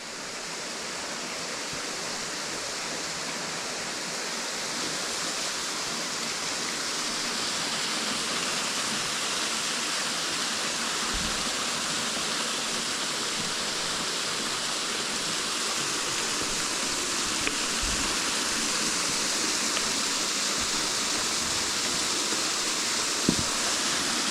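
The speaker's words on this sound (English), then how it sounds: "where the water's hitting that groove and coming down from the top" Routin Linn waterfall, water pouring down from the top of the falls into a groove, a loud, steady, unbroken roar of falling water heard close up.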